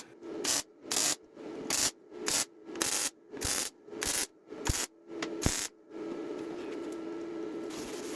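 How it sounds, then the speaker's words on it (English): A gloved or bare hand rubs repeatedly over freshly tack-welded metal on a workbench frame, making about nine loud, even scraping strokes in a steady rhythm, followed by a continuous rough rubbing hiss. "you'll see me rubbing, I'm just checking for heat to make sure it's not too hot"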